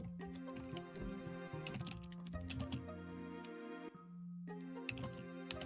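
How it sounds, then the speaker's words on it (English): Rapid keyboard typing at a tabletop role-playing game session, a steady stream of close clicks running under sustained background music with a brief pause near the end. "So much typing."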